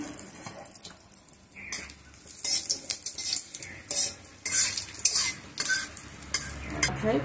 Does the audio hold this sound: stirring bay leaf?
yes